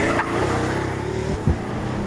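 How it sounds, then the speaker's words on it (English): Pagani Huayra supercar with a 720 bhp engine, heard from inside as it drones steadily and gives a short throttle blip on a downshift near the end. "You get a lovely blip on the downshift."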